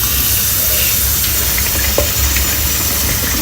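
Water pours steadily into a bowl of drained sago pearls, a continuous close splashing hiss that fills the whole stretch with no talking over it.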